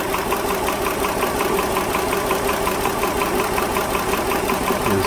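A 2010 Dodge Journey engine idles with a misfire after one fuel injector is disconnected, a steady, rough, continuous running drone with a faint uneven knock throughout, close and alone.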